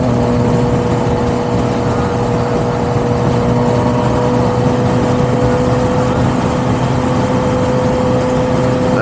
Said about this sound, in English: Did you hear Alex's new exhaust